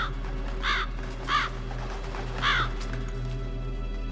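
Ravens in the video game Metal Gear Solid give three distinct harsh caws spaced about a second apart, moderately near, over a steady low background hum.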